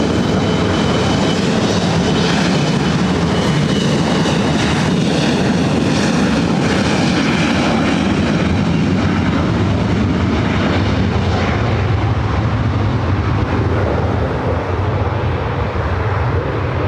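A passenger airplane takes off at LAX with a loud, steady engine roar that fills the whole stretch at close range, without any voices.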